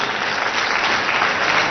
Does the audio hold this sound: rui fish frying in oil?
no